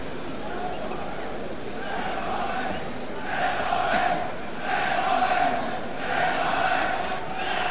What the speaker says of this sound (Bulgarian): публиката набира темпо, изглежда за заключителните овации